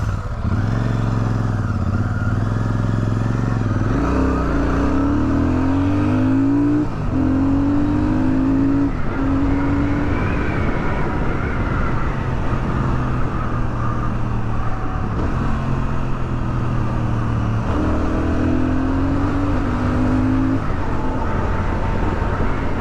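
A Royal Enfield Super Meteor 650 twin-cylinder motorcycle engine rumbles close and loud at idle, rising in several repeated revs before settling back, with no talking.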